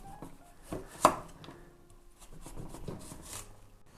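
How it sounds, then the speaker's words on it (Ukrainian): A knife slices vegetables into thin slices on a cutting board for Ukrainian borscht, giving faint, scattered cuts and taps with one sharper knock, quiet and close. "Тобто наразі нарізаємо слайси."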